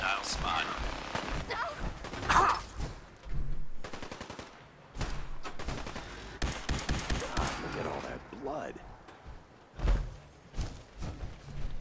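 Gunfire in the video game Fallout 4, with bursts of rapid shots and scattered single cracks spread across the stretch, mixed with thuds and game noise, some of it under a voice.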